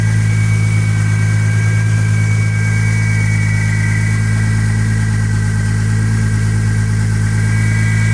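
A 1999 Lexus GS300 with a single-turbo engine idles smoothly and steadily, a loud, constant low drone with a faint high whine running over it for the whole stretch and no one talking.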